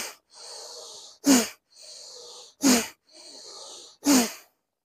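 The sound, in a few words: deep breathing during bhastrika pranayama yoga exercise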